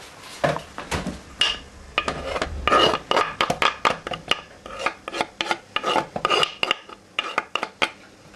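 Lemon zest is grated for a lemon bombe, with rapid, rhythmic raspy scrapes against a grater, close and loud, coming in short bursts with brief pauses and no talking.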